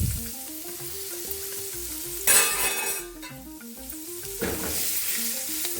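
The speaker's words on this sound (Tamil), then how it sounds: "இப்போ நம்ம பஜ்ஜி மிளகா இருக்குது இல்லையா, அதை போட்டுடலாம்." Bajji chili peppers fry in a pan with oil and asafoetida, giving a continuous sizzle with a loud burst when the peppers go in, then scraping stir strokes under a steady tonal hum.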